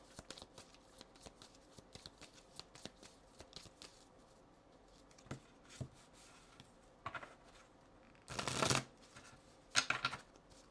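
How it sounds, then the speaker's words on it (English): A tarot deck is riffle-shuffled like playing cards, with scattered soft taps and card handling before one quick buzzing riffle-and-bridge burst close by in a quiet room, with no talking. "So I shuffle these regular tarot decks like that, like regular playing cards"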